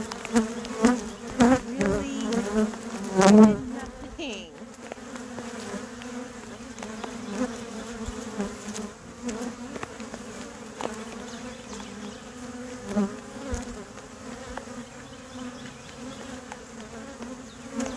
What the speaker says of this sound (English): Definitely got a lot of bees.